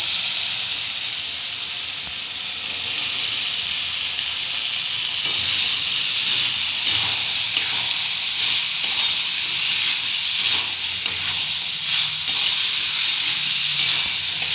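Chicken mince masala for a pea ghugni sizzles steadily in a hot pan as peas go in, a bright continuous frying hiss with faint stirring scrapes, no voices.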